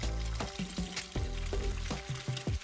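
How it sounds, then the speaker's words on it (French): Steady sizzling of finely chopped onion and carrots frying in an oiled pan, with occasional clinks and scrapes of a utensil stirring, close and continuous. "Fais revenir dans une casserole préhuilée un oignon finement haché et des carottes."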